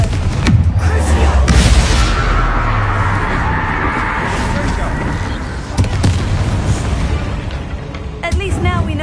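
Bombarda and Confringo spell explosions in the video game Hogwarts Legacy, with heavy booming blasts and rumbling debris across the span, including a sharp bang near the end, while voices speak over parts of it.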